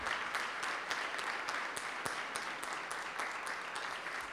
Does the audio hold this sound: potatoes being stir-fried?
no